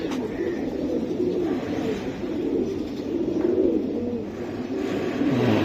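Boil pigeons coo in repeated low, throaty rolls at close range, with a faint chirp early on and no speech.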